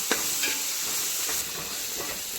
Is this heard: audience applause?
no